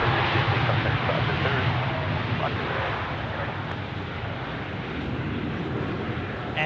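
Airliner departing the runway at Sydney Airport, a loud, broad engine roar heard near and sustained, easing slightly midway, with faint talk beneath.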